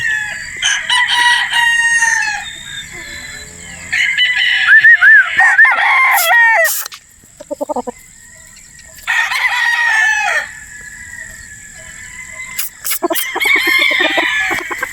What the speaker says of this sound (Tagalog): Gwapong manok ito mga boss idol.